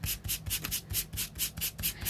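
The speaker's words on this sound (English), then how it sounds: "Take your 220 grit sandpaper and give it a light sand." Light hand sanding with 220 grit sandpaper on a painted sweater-pattern mug, a steady back-and-forth rasping of about ten even strokes, close and clear with no voices.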